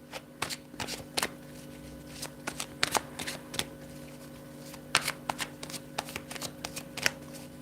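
A deck of cards being shuffled, with quick riffling bursts and soft flicks repeating over several seconds against a faint steady hum, no voices.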